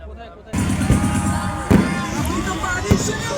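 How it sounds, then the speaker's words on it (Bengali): Fireworks bursting outdoors at a New Year's celebration in Kharagpur, in a few sharp booms spaced out over the clip, over a busy crowd murmur and babble. "তো আতশবাজি ফুটানো শুরু হয়ে গেছে, সেলিব্রেশন আরম্ভ হয়ে গেছে।"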